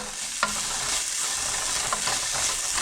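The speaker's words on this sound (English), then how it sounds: "Occasionally keep stirring it. You don't want the ginger to burn." Ginger is stir-fried in a pan for a chicken stir fry: a close, steady sizzle with a sharp utensil scrape near the start and a few more stirring strokes after it.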